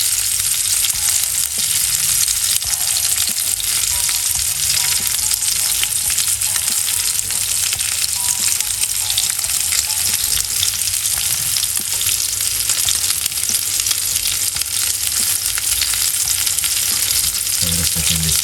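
Food frying steadily in a pan while a low-carb, sugar-free dinner cooks, a dense continuous sizzle and crackle that stays loud and even throughout, with a few faint clinks toward the end and no talking.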